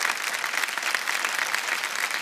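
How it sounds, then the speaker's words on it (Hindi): A studio audience applauds on the Kaun Banega Crorepati quiz show set: steady, dense clapping that stays loud and even for about two seconds, with no voices over it. "तालियों के साथ इनका अभिनंदन।"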